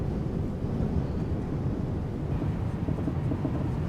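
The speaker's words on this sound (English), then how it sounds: "That's some wind." Strong wind roars outdoors, around force 5, buffeting the microphone with a constant low rumble and gusty turbulence, close and loud throughout with no voices.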